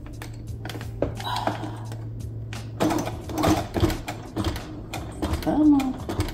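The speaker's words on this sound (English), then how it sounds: "I take this and fight it through my machine and push it through." A sewing machine pushes through silky chocolate-coloured slip dress fabric in short, halting bursts of clicking stitches, close by, with a person talking in between.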